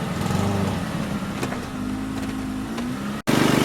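A Toyota Camry V6 engine running at a steady idle, close and continuous with a faint whine, cut by a brief dropout near the end before resuming.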